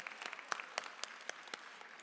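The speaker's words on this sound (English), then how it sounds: "So yeah, give yourselves a round of applause." Students clapping in a school gathering, a light scattered round of applause with sharp individual claps, fairly faint and brief, no voices.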